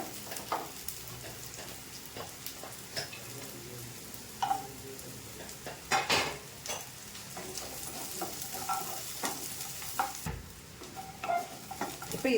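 Curry leaves and grated coconut stirred and sautéed in a pan for a country chicken curry, a steady sizzle broken by irregular scraping knocks of the spoon against the metal, close and moderately loud with no talk.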